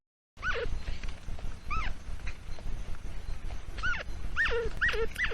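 Agouti calls come as short, sharp chirping squeaks, repeated irregularly in small bursts over steady background noise, fairly close and moderately loud.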